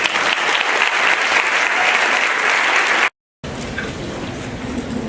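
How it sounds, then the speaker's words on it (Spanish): Strong audience applause welcoming a keynote speaker at a university lecture, a loud, dense patter of clapping that cuts briefly to silence before resuming just as fully. "la recibimos con un fuerte aplauso"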